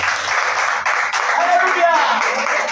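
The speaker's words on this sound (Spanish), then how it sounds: "demos un aplauso al Rey de Reyes" A church congregation claps together during a devotional service, a dense, steady round of applause with voices calling out over it.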